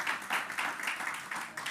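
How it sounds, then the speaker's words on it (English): Audience applause at a United Nations partnership forum in Jamaica, a steady dense patter of many hands clapping at moderate distance, sustained with slight swells throughout and no voices over it. "Please give them another round of applause"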